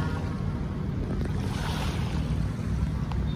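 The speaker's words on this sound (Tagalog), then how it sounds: "makinig ng hampas ng alon" Steady rush of surf and wind along the Manila Bay shoreline, a continuous low roar of waves with no voices, constant and moderately loud throughout.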